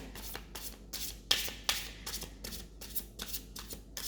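Tarot cards shuffled in a steady rhythm of papery riffles and soft rubbing, about a dozen regular bursts with a couple of sharper snaps partway through, close and moderately quiet with no talking.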